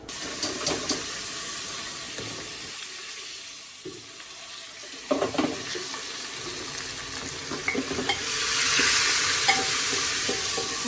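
Spice tempering sputters and fries in hot oil as the base for a spicy pulao, a close crackling hiss broken by scraping stirs and clatters, growing louder and fuller toward the end, with no talking.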